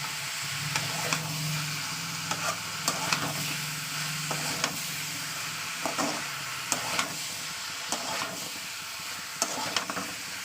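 Bottle gourd and potato sautéed with spices in a pan, a low steady sizzle broken by sharp, repeated scrapes and clatters of a stirring spatula.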